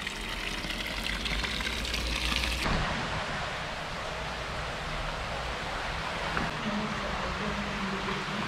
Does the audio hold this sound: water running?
yes